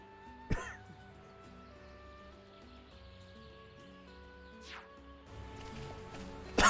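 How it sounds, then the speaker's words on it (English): A character in the Xenoblade Chronicles video game coughing, a couple of short throaty bursts standing out over quiet game music and ambience. "Why am I so coughing?"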